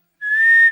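A single clear, high-pitched whistle rises in suddenly, holds a steady tone for about half a second, then cuts off, close and isolated against silence.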